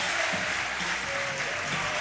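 A basketball crowd in a gym applauds and rises to its feet during a timeout, steady dense clapping throughout with a faint tone of music underneath.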